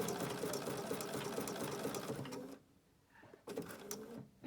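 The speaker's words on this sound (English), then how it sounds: "I'm going to tuck it in so I sew over it with my applique stitch" A Bernina sewing machine runs steadily while stitching appliqué with an open toe foot, a continuous close, loud hum that drops out for about a second in the middle, then starts up again.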